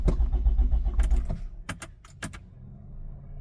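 A 2007 Toyota RAV4 with multiple circuit faults, stalling and running rough, cranks and catches with a loud low engine rumble that then cuts off into a quieter idle, with clicks and key jingles mixed in.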